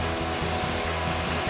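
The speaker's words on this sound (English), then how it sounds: "here's me welding two pieces together to get a long enough piece" MIG welding joins two metal pieces into one longer length for a race car or hot rod fix, a steady loud buzzing crackle with rhythmic pulsing bursts, close up and continuous with no talking.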